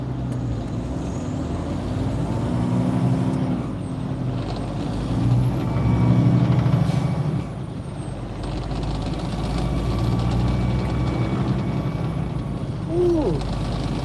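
A heavy truck turns in a Walmart parking lot, giving a steady, loud low engine rumble with faint air-brake hisses and whines layered over it throughout.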